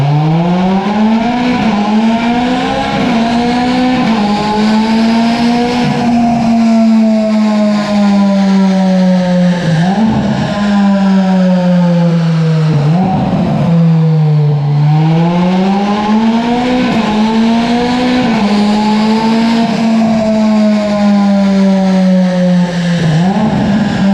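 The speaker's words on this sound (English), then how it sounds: "Do you remember when we had that 430 on the dyno? I've got that somewhere. And I did Capristos on it." A Ferrari 430 V8 fitted with a Capristo exhaust revs on a dyno, rising and falling through several loud, sustained pulls with a harsh, wailing engine note and no talking.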